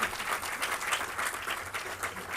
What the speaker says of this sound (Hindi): आप कृपया एक ताली इसमें तो बजा ही दीजिए